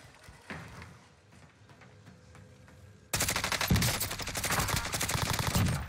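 Gunfire in Call of Duty Warzone on Rebirth Island: quiet game ambience at first, then a sudden, loud, rapid burst of close automatic shots that continues steadily to the end.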